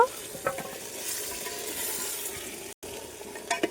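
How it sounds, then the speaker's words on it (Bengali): Steady sizzling of mutton being slow-fried in a handi pot over low heat, with scraping and stirring sounds, a low continuous frying hiss broken by occasional clinks of a utensil. "মাংসটা একটু কষিয়ে নেব"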